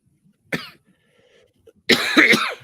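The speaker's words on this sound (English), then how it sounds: "Still getting over this cough thing I had." A man coughs twice, a short single cough followed by a longer, harsher burst of coughing, close and clear against near silence.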